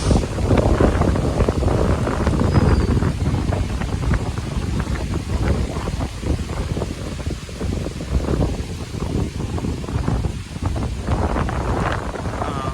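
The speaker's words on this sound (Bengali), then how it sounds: "এত বাতাস মনে হয় যেন আমাকে উড়িয়ে নিবে, প্রচণ্ড বাতাস।" Strong wind batters the microphone on the bank of the Shitalakshya river in light rain, a loud continuous rumbling roar with gusty surges and no speech.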